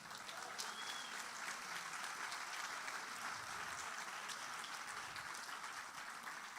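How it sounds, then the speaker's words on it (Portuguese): Steady applause from a church congregation, continuous and fairly even throughout, with dense clapping filling the room and no break. "Vamos aplaudir a Deus."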